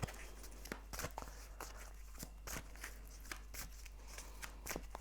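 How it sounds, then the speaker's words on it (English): Tarot archetype cards are shuffled by hand, producing a rapid, irregular run of crisp papery flicks and slaps, close and fairly quiet over a low steady hum. "I'm going to shuffle some of these archetype cards"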